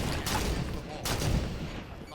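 Sniper rifle gunfire in a competitive multiplayer shooter match, two sharp loud shots about a second apart under a commentator's talk.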